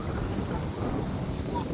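Steady, broadband wind roar buffets the microphone throughout at a riverside campsite, loud and continuous with no clear pauses.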